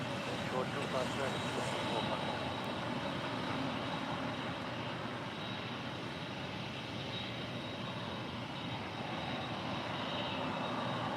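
An aircraft on an airport runway roars steadily in a broad, rumbling wash of engine noise that stays fairly faint and distant throughout.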